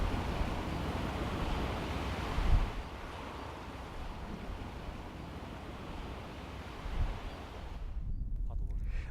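Ocean waves wash onto the shore of an uninhabited island, a steady broad rush with two swells cresting louder before the sound drops away near the end.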